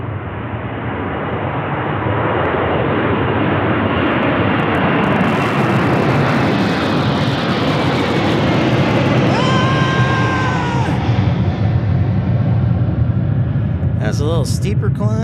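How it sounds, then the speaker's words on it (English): A Boeing 747 jet climbs steeply after takeoff from Ted Stevens Anchorage International Airport, producing a loud, sustained broadband roar that builds and holds, with a voice faintly audible at times. "That's a little steeper climb than the last 747."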